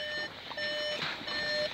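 A repeating electronic warning beep from a 2018 Seat Leon estate with its lights on, steady high tones pulsing at a regular rhythm with faint background noise.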